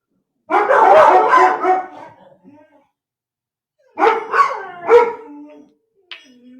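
Dogs bark and yip close by in two bursts, a howl-like run of barks first, then several sharp barks, with silence between.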